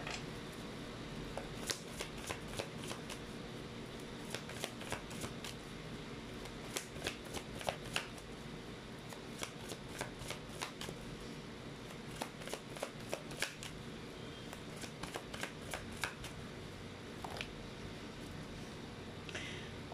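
Tarot cards are shuffled by hand up close, with a steady papery rustle broken by many quick riffling flutters and soft taps across the whole stretch.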